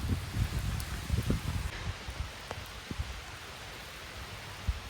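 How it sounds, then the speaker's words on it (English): Rain falling outdoors on a hillside during a family outing, a soft steady hiss with scattered drops and rustling, light patters stronger at first then easing, no voices. "Yep, definitely raining."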